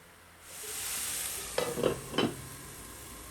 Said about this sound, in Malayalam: കുറച്ചൊന്ന് ഇളക്കി കൊടുത്തിട്ട് പിന്നെ അവിടെ ചെറിയ ഫ്ലെയിമിലിട്ട് മൂടി വെച്ചാൽ മതി കേട്ടോ